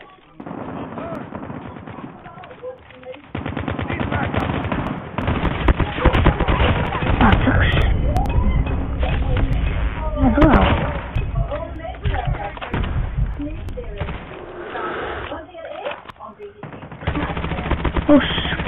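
Automatic weapon fire in the Call of Duty video game: long bursts of rapid shots and heavy thuds, loud and dense, with game sounds throughout.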